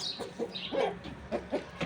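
A rooster clucks and calls in a series of short bursts close by, with other fowl faintly audible in a farmyard.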